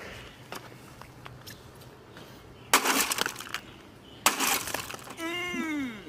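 Glass smashes twice in a comedic Muppets dinner scene, two loud, close shattering crashes with scattered tinkling between them and a warbling voice afterward.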